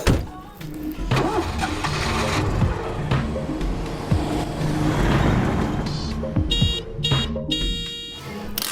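A car engine starts and runs, the drive carrying on as a steady, loud mechanical rumble through the clip, with a few brief clicks and tonal beeps near the end.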